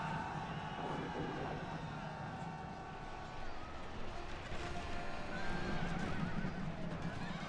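Horses neigh and whinny amid the clatter and crowd noise of a Rome: Total War battle, a dense continuous din with voices talking over it.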